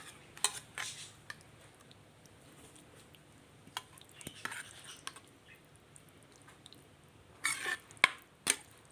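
Okra curry in a yogurt masala being spooned from the pan into a serving dish, heard as sparse, close metal spoon clinks and soft scrapes in small clusters over a quiet background, with no one talking.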